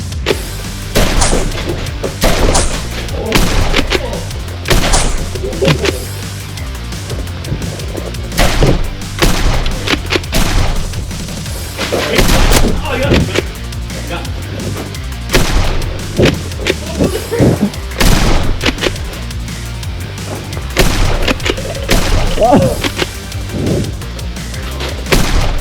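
Nerf Rival blasters firing foam rounds during a backyard Nerf war: repeated sharp pops and thuds at irregular intervals over half a minute, with scuffling movement and occasional voices.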